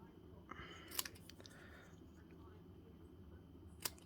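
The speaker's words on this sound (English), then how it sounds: "So you can do it with just a pair of scissors" Scissors snip through a paper banner in a few quiet cuts, with a sharp snap near the start and another near the end over a low steady hum.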